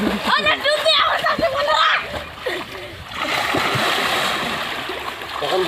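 Water splashes and sloshes loudly as someone dunks into water to bathe, with a continuous watery rush afterward and people talking and calling out nearby.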